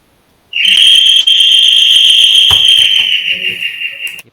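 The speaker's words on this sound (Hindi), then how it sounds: "ये पुराने ज़माने की सीटी किसकी बज रही है अभी तक?" An old-fashioned whistle blows one long, loud, steady shrill tone lasting several seconds, then cuts off abruptly, with faint background noise beneath it.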